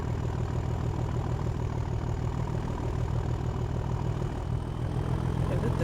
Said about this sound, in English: I love the engines in these things. They just sound incredible.